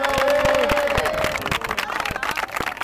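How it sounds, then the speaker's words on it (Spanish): Rhythmic, fairly close hand claps ring out at an electro dance battle, a crowd cheering faintly beneath the sharp steady beats. "un aplauso para ella también, va, por favor"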